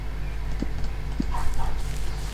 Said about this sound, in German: Siehst du, mein Hund schreit auch schon.